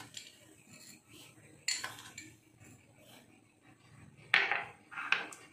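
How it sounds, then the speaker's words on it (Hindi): A spoon clinks against a bowl of gram flour batter for dhokla while sugar goes in, giving a few sharp, close taps spaced apart over quiet room tone. "अब हम इसमें 2 चम्मच चीनी ऐड करेंगे।"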